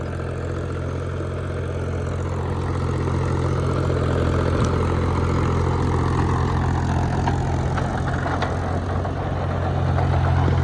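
A Mahindra 265 tractor's heavy diesel engine idles and runs steadily nearby, pulling a super seeder, a constant low drone with slight variations throughout.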